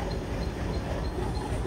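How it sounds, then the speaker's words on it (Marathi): A local train pulling into Dadar station, a dense low rumble of wheels and carriages that fills the moment evenly at moderate level, with no talk. "ट्रेन पण आलेली आहे आपली"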